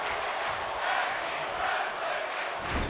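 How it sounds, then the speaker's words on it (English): Crowd chanting in a WWE 2K26 tag team wrestling match at Night of Champions in Riyadh, Saudi Arabia: a steady, dense arena roar with rhythmic swells throughout. "The crowd here chanting tag team wrestling."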